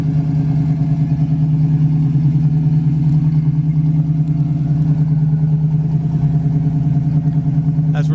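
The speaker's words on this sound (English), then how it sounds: "Car just sounds and looks great." A 1968 Ford Mustang convertible's engine runs at a steady idle close by, a constant low throb with light mechanical clatter and no talk.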